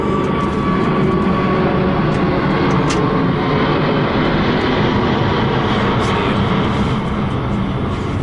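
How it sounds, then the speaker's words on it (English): A British Airways Airbus A380 airliner takes off with a loud, continuous broadband jet roar that stays steady and close throughout. "British Airways, Air 380 taking off. I thought that was quite loud compared to all the others."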